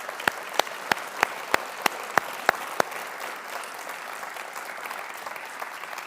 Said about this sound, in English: Let's show them all our appreciation, please, by a big round of applause.